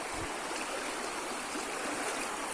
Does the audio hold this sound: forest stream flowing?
yes